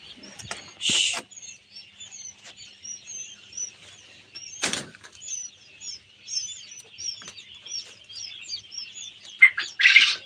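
Freshly hatched quail chicks on a farm give many rapid high-pitched cheeps, dense and continuous. A few sharp knocks and rustles break in now and then.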